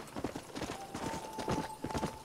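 Rapid, steady hoofbeats of a galloping horse in the video game Red Dead Redemption, rhythmic and fairly close, with a faint sustained tone underneath.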